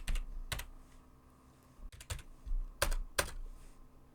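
Soft, quiet keystrokes on a computer keyboard come in scattered clusters of clicks with pauses between, close and low in level.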